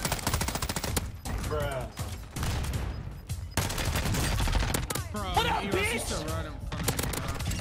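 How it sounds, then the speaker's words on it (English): Rapid bursts of automatic gunfire crackle through a video game firefight, loud and nearly continuous, with sharp individual shots between the volleys and excited voices talking over the shooting. "Bro, I got shot all through the wall."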